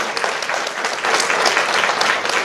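An audience applauds the children at the reopening of a community center, lively continuous clapping that swells slightly midway and carries on steadily without a break.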